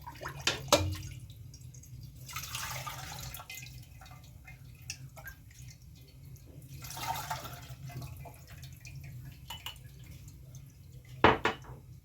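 Chicken broth strained for molokhia soup: liquid pours and drips in short bursts around the middle and end, with a few clinks of a pot or utensil, fairly quiet and close, no talking.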